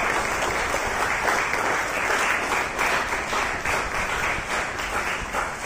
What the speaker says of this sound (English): kindly give a big applause to these